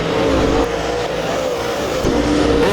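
Race cars roar around Lake Ozark Speedway during a heat race, a loud sustained engine drone with shifting pitch as cars run side by side.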